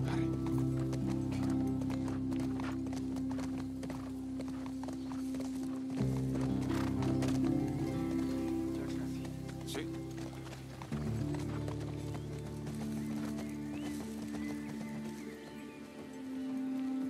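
Rhythmic hoofbeats of a galloping horse in The Last of Us Part II pound on over steady background music, with a neigh and patter like rain mixed in.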